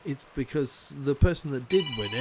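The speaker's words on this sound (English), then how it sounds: "Oh, that's the phone." A telephone rings briefly near the end, a faint electronic trill beneath someone talking at a home cycling setup.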